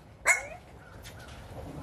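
One short, sharp bark from a dog, fairly close and clear, followed by faint, quieter yips and low background noise.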